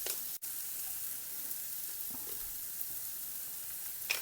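Onions sautéing in a pan for an omelette make a continuous soft sizzle at a fairly quiet level, with a brief click near the start and light stirring scrapes. No one speaks.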